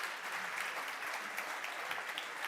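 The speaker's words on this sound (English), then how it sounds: "Please come on stage with a little applause." An award ceremony audience applauds a guest called to the stage, a steady wash of many hands clapping at moderate distance, continuous and even throughout.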